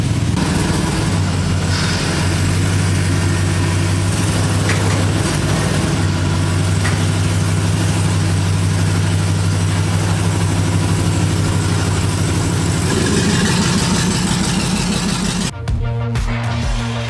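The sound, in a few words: Chevrolet LS V8 engine starting and idling in C10 truck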